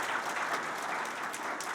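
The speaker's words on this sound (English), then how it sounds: "If we could have one more round of applause for our new Grand Challenge introductions." A workshop audience at a plenary session applauds the new Grand Challenge introductions with dense, even clapping that runs throughout, fairly soft and distant.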